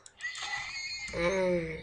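A horse whinnies in Minecraft, a brief rising and falling neigh heard close and clear over quiet game ambience.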